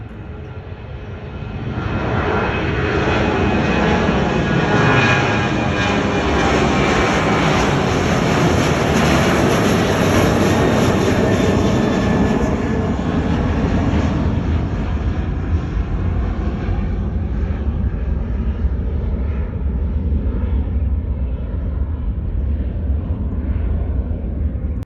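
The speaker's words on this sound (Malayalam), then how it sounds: "ഫ്ലൈറ്റ് അവിടെ നിന്ന് വരുന്ന സൗണ്ട് കേൾക്കുന്നുണ്ട്." A fixed-wing airliner taking off from Kozhikode (Karipur) airport, heard from a nearby viewpoint: a loud, sustained engine roar swelling in over the first seconds and holding steady throughout, with no talking.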